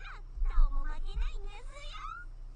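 A cat meows several times in drawn-out, wavering cries close by, over a low steady hum, with a person's voice in the same room.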